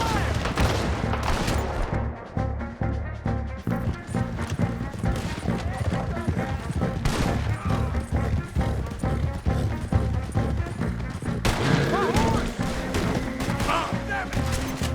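A Red Dead Redemption 2 shootout, with dense, rapid gunfire crackling close and loud the whole time. Hoofbeats and booms mix in, and shouting voices cut through the volleys.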